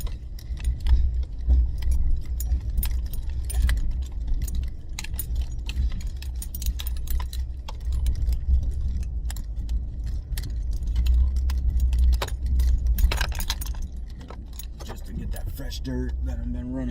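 Pickup truck rolling slowly over freshly worked dirt, a low engine rumble throughout with loose rattles and jangling from the cab, someone talking over it.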